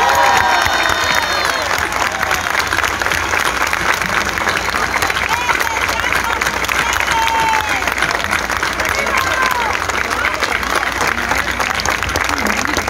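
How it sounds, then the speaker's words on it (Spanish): A concert audience gives a long, loud farewell ovation for Teo, a trumpeter who has died, with dense continuous clapping, cheering and scattered shouts that hold steady throughout. "con un fuerte aplauso, pero recio."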